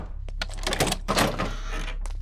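Someone bangs hard on a door in a house, a quick run of heavy, close thumps and rattles lasting about two seconds, with no voices.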